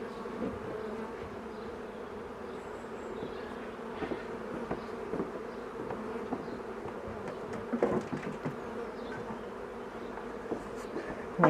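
Honeybees swarm around an open hive during a beekeeper's inspection, a dense, steady buzzing hum that lasts throughout with occasional nearer passes and faint knocks from handling the hive's wooden parts.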